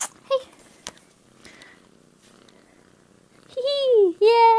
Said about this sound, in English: Sorry, Nugget, this is Nugget, Jess's cat.